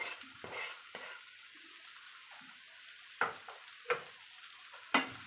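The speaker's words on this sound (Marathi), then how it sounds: "मिक्स करून घेऊ व्यवस्थित आधी आणि 2 मिनिटं दोडके असेच फ्राय करून घेऊ." Ridge gourd and yellow gram dal fry and get stirred in a pan, giving a soft sizzle under several sharp scrapes and knocks of a spatula against the metal.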